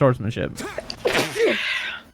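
A single sharp sneeze bursts out close by in the middle of ongoing conversation, with voices talking just before it.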